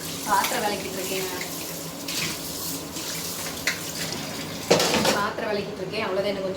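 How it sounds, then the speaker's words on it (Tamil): Tap water runs steadily into a home kitchen sink while dishes are washed, with occasional clinks of pots under a continuous splashing stream and a voice speaking over it. "பாத்திரம் விளக்கிட்டு இருக்கேன்."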